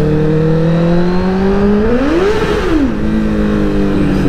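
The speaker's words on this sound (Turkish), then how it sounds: "Bu arka lastik ne biçim sarıyor ya." A 1000RR motorcycle revs in snow, its loud, steady engine drone climbing in pitch midway, then dropping back to a lower hum as the rear tire spins.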